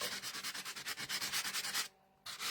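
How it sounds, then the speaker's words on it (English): Rapid rhythmic rubbing of a sanding block over an embossed card, close and scratchy, in quick back-and-forth strokes with a brief pause near the end. "all I've done with this is just gone over it with a sanding block"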